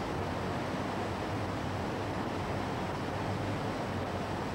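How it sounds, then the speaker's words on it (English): River water spills over a weir dam at an old corn mill, a dense continuous roar of rushing water, loud and steady throughout with no voices. "If the river fills up the pond with too much water, the surplus spills over the dam to escape downstream."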